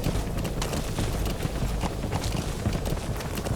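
A horse gallops in Metal Gear Solid V, its hoofbeats thudding in a fast steady rhythm, close and continuous, with no talking over them.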